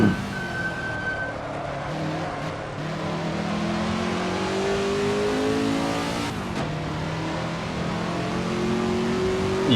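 A race car engine in a racing video game set in a one-hour Le Mans race revs loudly and steadily, rising through gear changes with no talking.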